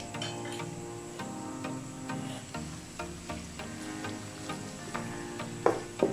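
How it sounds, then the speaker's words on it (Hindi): Onion and garlic sizzle steadily in hot oil, a close, continuous frying crackle with scattered light ticks and pops, no voices. "ऑयल हमारा गर्म हो चुका है। अभी हम इसमें लहसुन और प्याज शामिल कर लेंगे।"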